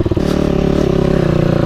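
A motorcycle engine revs up close and loud, a brief rising roar that settles into a steady throbbing run.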